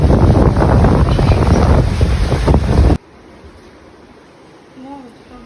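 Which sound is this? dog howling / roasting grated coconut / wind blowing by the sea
wind blowing by the sea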